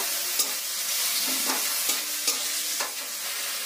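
Onion and garlic paste fry in hot mustard oil for jackfruit pakora, a loud, constant hiss punctuated by several crisp stirring scrapes against the pan.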